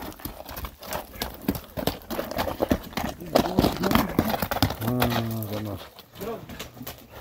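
A tall, slender horse clip-clops in a steady run of hoof falls close by, with people talking over it and a brief whinny-like call near the end.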